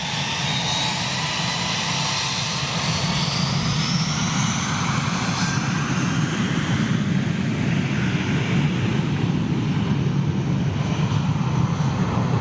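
An ATR turboprop airliner passes with a steady, loud broadband engine roar and propeller drone held throughout, without voices.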